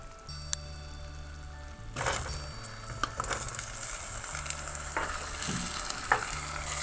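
Tofu sizzles softly in a pan for a Thai-style kor dish with palm sugar, with a steady low frying hiss broken by several scraping stirs of a utensil, close and fairly quiet.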